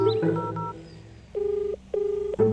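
A telephone keypad sends a string of dialing tones: several short beeps, then two longer sustained tones separated by brief gaps, clear and close with no talk.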